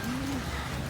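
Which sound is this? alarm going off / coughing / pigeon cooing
pigeon cooing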